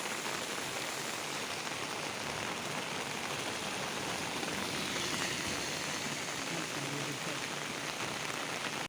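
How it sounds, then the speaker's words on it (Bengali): Heavy rain pours steadily on a village road, a dense, unbroken hiss of drops on surfaces that stays loud and even throughout. "খুব বৃষ্টি পড়ে, আমরা আর পারছি না"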